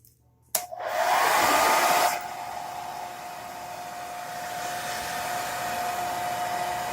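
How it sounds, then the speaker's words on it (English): A hair dryer on its lowest setting switches on with a click and blows a steady, airy whoosh, loud at first and then settling to a softer continuous hum. "putting the hairdryer in first, and then turning it on. Turning it on the lowest setting."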